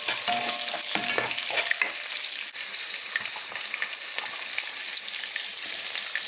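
Chicken tinola cooks in a pot, a constant loud sizzle with scraping stirring strokes, close and without voices.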